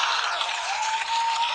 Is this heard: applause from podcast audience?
yes